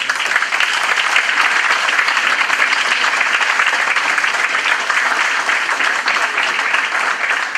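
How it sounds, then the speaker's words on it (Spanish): A church congregation applauds to welcome a speaker, dense and sustained clapping filling the room at an even level throughout. "Un aplauso."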